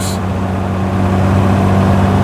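A Triumph GT6 engine pulls up a steep hill in overdrive on a light throttle, a loud, steady low drone with road rumble inside the car, with no talking.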